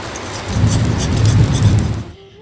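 Strong wind drives rain outside during a storm, a loud, dense rushing roar that holds steady for about two seconds and then cuts off abruptly.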